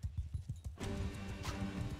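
Horse hooves in the medieval combat game Mount & Blade II: Bannerlord, a quick run of rhythmic clip-clop thuds close by, followed by a denser burst of battle noise and galloping hooves.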